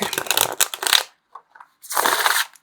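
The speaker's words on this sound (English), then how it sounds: "I love how easily it shuffles." A deck of tarot cards is shuffled close up in two bursts of rapid riffling, separated by a short pause with a couple of soft taps.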